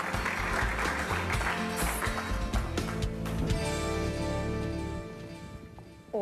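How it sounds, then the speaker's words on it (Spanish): Studio audience applause on a TV children's talent show, loud dense clapping with music and cheering blended in, sustained for several seconds before dropping off near the end. "Un aplauso para Lana y su mamá, Yesenia."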